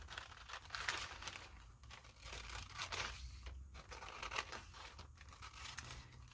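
Scissors cut out a board-sized piece of transfer paper, giving a close, quiet run of crisp snipping, crinkling and tearing strokes in uneven bursts with short pauses between them.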